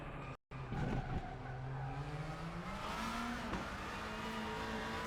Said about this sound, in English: let the car drift out wide as the track allows you to